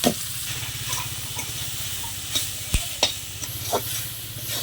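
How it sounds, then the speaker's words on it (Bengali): Leafy greens with onion, garlic and dried red chillies fry in oil in a pan while being stirred, giving a steady close sizzle with scattered scraping clicks and a few sharper knocks of the utensil. "আর একটু নাড়াচাড়া করে ভালো করে ভেজে নিই"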